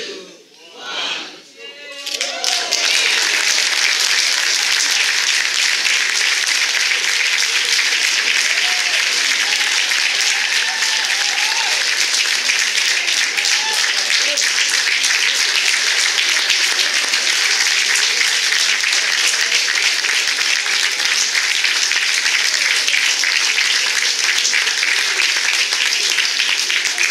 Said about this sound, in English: Ladies and gentlemen, a round of applause for the man of the hour.